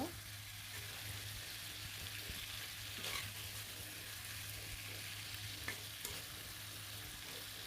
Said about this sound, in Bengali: আলু মাছগুলো দিয়ে কিন্তু খুব সুন্দরভাবেই মাছটা রান্না করে নিব